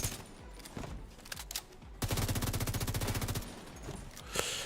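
Test Subject rifle in The Division 2 video game firing a sustained rapid automatic burst of about fifteen evenly spaced loud shots, with scattered gunfire and game effects before and after.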